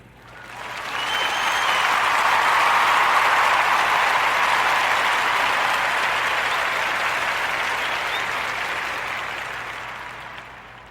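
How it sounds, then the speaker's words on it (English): A podcast audience breaks into a warm round of applause for guest Tiffany James, a dense, sustained wash of clapping that swells quickly and tapers slowly over about ten seconds. "Let's give a warm narrative podcast round of applause for our sister,"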